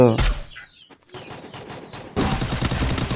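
In a Free Fire match, gunfire from an SVD rifle rings out as a sharp opening shot, then rapid cracks follow and a dense burst of firing closes, loud and near.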